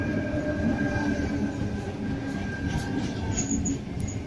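Sydney Trains service pulling into a station platform, a steady close rumble of wheels and carriages with faint squealing and high metallic tones, no talk.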